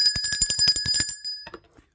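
A bell rings in a rapid run of about a dozen bright, metallic strikes, each with a sustained ringing tone that hangs on briefly before cutting off, followed by a few softer taps and a quick fade to silence.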